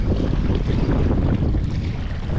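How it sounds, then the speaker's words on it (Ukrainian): Strong, steady crosswind on a spring fishing trip roars and buffets the microphone without letup, a loud broadband rush with a low rumbling gust texture throughout. "Такий вітер."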